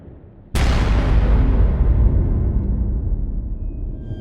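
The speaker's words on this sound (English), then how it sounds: "From our room, we can hear giant booms of exploding from the volcano" The very active Arenal Volcano erupts with a sudden deep boom that hits abruptly and rumbles on, slowly fading over several seconds in an open outdoor setting.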